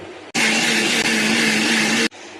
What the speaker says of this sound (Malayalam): ഇത് നമുക്കൊരു ഒരു മിക്സി ജാറിലോട്ട് ഡയറക്റ്റ് ഇടാം